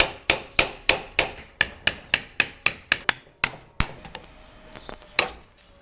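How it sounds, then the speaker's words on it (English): Sharp metallic hammer strikes on a screwdriver, releasing a CV axle clamp, ring out in a fast, steady series, about a dozen blows, then slow to a few scattered taps. "getting a screwdriver and hammering on this edge right here"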